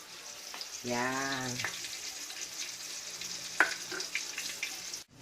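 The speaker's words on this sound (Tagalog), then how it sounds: "We're going to saute it in butter with a little bit of oil so that we could prevent the butter from burning." A pan sizzles steadily as food sautés in butter with a little oil, a constant soft frying hiss with a few light clinks and a short voiced sound mixed in.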